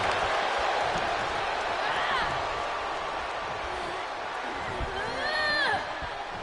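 Wrestling video game crowd roars and cheers steadily throughout, with whoops rising near the end, heard loud and continuous under a commentator's voice.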